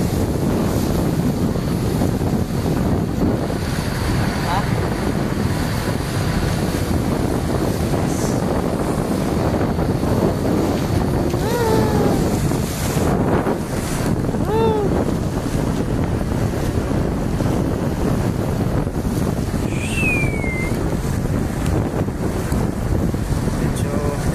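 A boat sails across the lake toward the Taal volcano crater, with a constant heavy roar of wind buffeting the microphone and water rushing alongside, while faint voices come and go beneath the noise.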